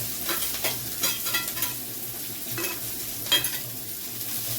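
Onion and garlic fry in a pan for chicken Manchurian, a steady sizzle broken by repeated scraping stirs of a utensil against the pan, close and fairly loud with no voices.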